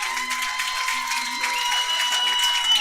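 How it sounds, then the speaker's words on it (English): A baseball crowd in Fairbanks gives a round of applause for a pitcher leaving the game, a steady wash of clapping heard from a distance, mixed with faint crowd noise and a tonal hum. "Goldpanners giving him a round of applause as he comes out of the game"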